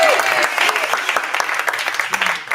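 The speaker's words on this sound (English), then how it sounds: "Yeah, applause." Audience applause fills the studio of a live TV show, a dense, loud, sustained patter of many clapping hands, with a few voices faintly mixed in beneath.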